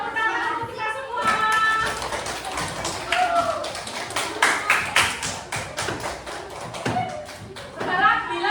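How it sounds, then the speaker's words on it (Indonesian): A classroom of children claps together, a dense run of hand claps that continues for several seconds, close and lively, with children's voices and talk mixed in. "Tepuk tangan untuk kita semua."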